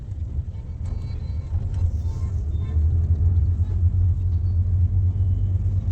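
Steady low engine rumble and road noise fill the cabin of a car moving through traffic in Dwarka, growing slightly heavier midway, with a few faint clicks and no clear talk.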